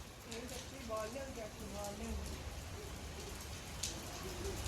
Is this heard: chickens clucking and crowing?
no